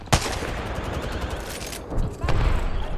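Rapid gunfire in Counter-Strike: Global Offensive, with a sharp opening shot and then dense bursts of automatic fire. A second loud volley comes near the end, all close and punchy.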